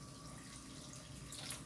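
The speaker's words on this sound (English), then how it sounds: "I'm gonna add in approximately 2 more deciliters of water." Water is poured into a cooking pot of pork stew with noodles and vegetables, a soft, continuous trickle that stays faint and even, with no voices.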